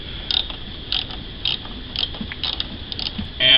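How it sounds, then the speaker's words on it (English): A 10mm socket ratchet works a bolt on a 2011 Ford Fiesta, a run of short clicking bursts at a fairly regular pace, close and moderately loud, with a longer metallic burst at the end; no talking. "I'm going to use a 10mm socket, or you could use a 3/8 inch."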